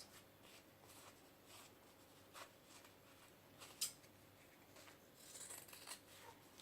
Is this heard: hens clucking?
no